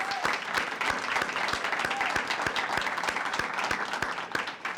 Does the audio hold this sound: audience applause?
yes